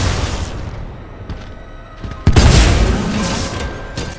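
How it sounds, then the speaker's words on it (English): A single-shot thermite grenade launcher fires in Titanfall 2, a loud booming thump that ignites into a sustained roar of burning gas, set against an ongoing rumble of battle. "This is just a single-shot grenade launcher."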